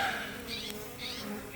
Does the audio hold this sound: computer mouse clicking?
no